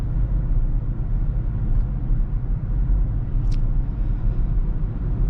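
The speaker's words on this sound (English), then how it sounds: "you can hear the exhaust valves open. It gives you a rumble even at low RPMs" A 2021 BMW X6 M50i in sport mode gives a low, steady exhaust rumble at low RPM, heard from inside the cabin on a snowy road as a continuous deep drone with no speech.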